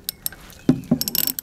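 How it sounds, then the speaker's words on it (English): A ratchet tightens the sump plug with a new washer back into a BMW K1100 motorcycle during a 10k service, giving a few close metallic clicks and knocks, a pair of louder thuds followed by a quick run of ratcheting clicks. "Now we're going to put the sump plug back in with its shiny new"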